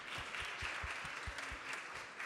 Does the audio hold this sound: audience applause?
yes